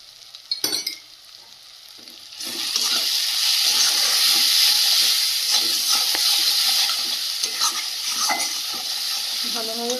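Pieces of country chicken seasoned with turmeric and salt sizzle loudly in a hot pan, a steady hissing fry beginning after a few clattering stirs and holding strong, with occasional scraping.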